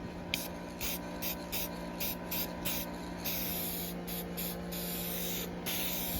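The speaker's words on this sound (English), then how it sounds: "I got a can of Rust-Oleum clear lacquer from last couple projects ago, and let's go ahead and apply it" A spray can of Rust-Oleum clear lacquer hisses in a quick series of short bursts and longer sprays, close and fairly quiet, with no voices.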